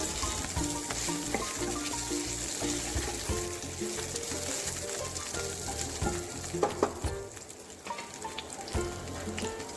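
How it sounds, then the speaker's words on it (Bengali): Sliced garlic frying in hot oil in a home kitchen, a loud continuous crackling sizzle with scattered pops and stirring scrapes, no talking. "এবার কেটে রাখা কিছু স্লাইস গার্লিক আমি গরম তেলে ছেড়ে দিচ্ছি।"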